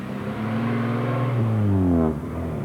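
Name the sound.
classic Morris car being driven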